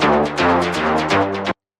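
A filtered Afro house lead synth, pitched down an octave, plays a steady run of plucked notes over a sustained low bassline for about a second and a half, then cuts off abruptly into silence.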